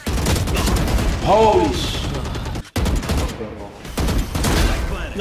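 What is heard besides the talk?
gunfire in the video game Valorant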